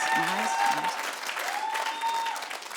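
An audience at a stand-up comedy show claps in a burst of applause, moderately loud and fading out, with voices and laughter mixed in.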